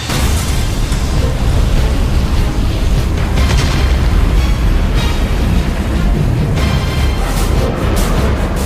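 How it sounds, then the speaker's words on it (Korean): Missile explosions burst in the sky during an aerial battle, a dense, continuous rumble of booms and roaring blasts filling the whole stretch with heavy low-end energy and no pauses. "세 개의 거대한 폭발이 하늘에 불꽃을 일으켰다"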